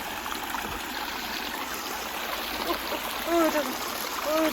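Steady babbling of a mountain valley stream near Seoul in summer, a continuous close wash of flowing water with faint voice-like tones and a brief louder splash toward the end.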